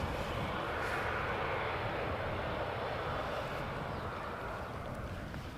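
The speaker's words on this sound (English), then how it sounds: "There's a 777-300ER from KLM coming in from Sao Paulo, and I think it's going to be number 4 for landing." A KLM Boeing 777-300ER arriving from Sao Paulo to land at Amsterdam Schiphol, its engines a steady broad roar heard from a distance, fairly faint and easing slightly toward the end, with no talk.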